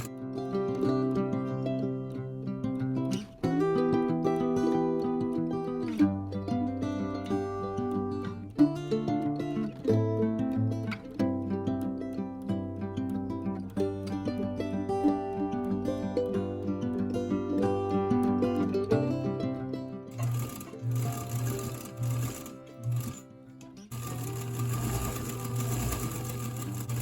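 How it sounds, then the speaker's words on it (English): A sewing machine stitches collar lace onto fabric with invisible thread, giving a steady motor whir and needle clatter with small changes in speed. It runs close and clear, then stops and starts in short bursts near the end. "we will start by sewing on this piece of collar lace"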